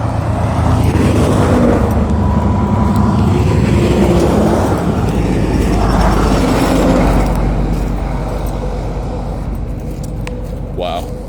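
Road noise from a truck on the move: a loud, steady engine rumble and tire roar with passing traffic swooshing by, easing slightly toward the end, while someone talks over it.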